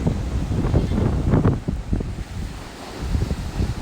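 Strong waves breaking at a resort beach, a steady roar of surf mixed with wind buffeting the microphone, loud and continuous with surging swells throughout.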